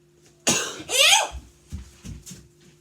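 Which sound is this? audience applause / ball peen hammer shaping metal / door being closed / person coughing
person coughing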